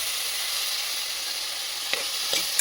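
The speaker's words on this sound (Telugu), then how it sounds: "ఈ విధంగా ఆనియన్స్ని మనం వేసుకోవాలండి." Onions fry in oil in a pan with a dense, even hiss of sizzling, close and steady, with a couple of faint stirring scrapes near the end.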